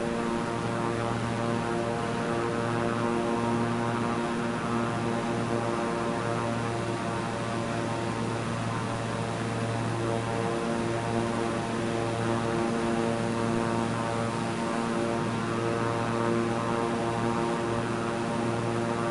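Propeller aircraft engine in Microsoft Flight Simulator 2024 on PS5, a constant droning hum with strong steady harmonics, close and unbroken for the whole stretch with no talking.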